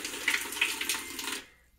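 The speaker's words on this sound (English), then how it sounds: "I can press this button and it will turn on the water." Water streams from the Active WaterJet faucet on a Samsung 4.7 cu. ft. smart top-load washer as a steady hiss of running water that stops abruptly.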